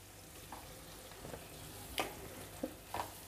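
Prawns and gongura leaves frying in a pan, a faint steady sizzle with a few soft stirring scrapes and clicks, no talk.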